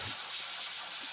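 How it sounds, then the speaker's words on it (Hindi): A pressure cooker whistle releasing steam in a village kitchen in the Uttarakhand hills, heard as a loud, continuous, close hiss that holds steady for the whole short stretch. "और इधर देखो कुकर में ये सीटी आ गई"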